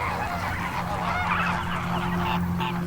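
Flock of flamingos calling with loud, overlapping honking cries, close and continuous.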